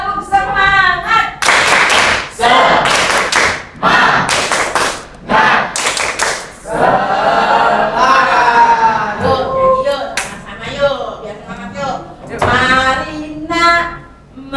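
A school class performs a rhythmic spirit clap, loud sharp bursts of unison hand claps in short patterned groups, alternating with children's voices chanting and singing.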